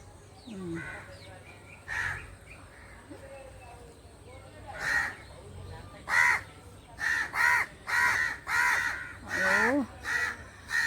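Crows caw loudly and close by outdoors, with harsh calls starting sparse and then coming in a rapid series of overlapping caws from several birds.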